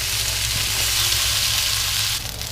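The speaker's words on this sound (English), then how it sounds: "let's pan fry these guys" Pierogi sizzle in a pan with diced bacon and rendered fat, a steady loud crackle and hiss that briefly shifts near the end.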